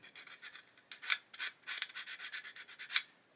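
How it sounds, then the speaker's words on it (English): Quick, close rasping strokes of a sanding stick on a 1/12 scale plastic model car body, a steady back-and-forth rhythm of short scratchy rubs with a few harder passes. "I'm going to do is return to sanding sticks"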